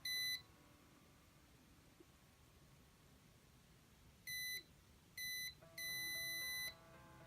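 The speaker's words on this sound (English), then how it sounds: "at about 5 inches, less than 5 inches, that's when the buzzer will go off" An Arduino buzzer triggered by an ultrasonic distance sensor gives a short beep, then after a pause two short beeps and one longer sustained tone, all sharp and electronic against a quiet background.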